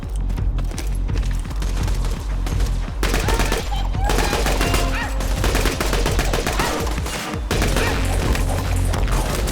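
A Tediore gun fires in Borderlands 2 in rapid, loud bursts of crackling gunfire, broken by short pauses, with the chaotic impacts and booms of combat in between.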